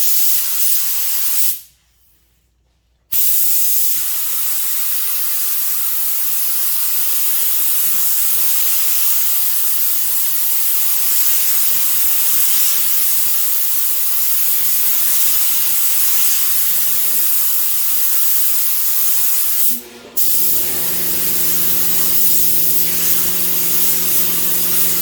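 A paint spray gun at 20 psi with the fan fully open hisses loudly and steadily while spraying matte F8 Green. One pause of about a second comes early, and a brief break follows near the end.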